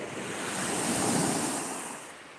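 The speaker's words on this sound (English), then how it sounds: "I could watch waves all day." Waves break on the Lake Michigan shore at Petoskey, Michigan, a broad hissing surge that swells to a peak and then recedes, with wind buffeting the microphone and no voices.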